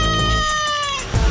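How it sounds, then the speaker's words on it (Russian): A cat gives a loud, drawn-out meow with a wavering, caterwauling tone, close up, followed by a short rustle. "Кошачья адаптация мирового хита с великолепным Альтом в главной роли"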